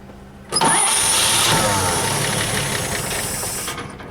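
A 1939 Chevy engine cranks and fires, jumping to a loud, close, sustained rough running roar for about three seconds before easing off, with no talk over it.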